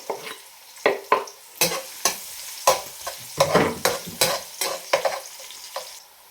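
Garlic stirred in a frying pan for seafood sinigang, a close, lively sizzle punctuated by a quick run of loud scraping strokes of the spatula, about a dozen in irregular rhythm, with no one talking.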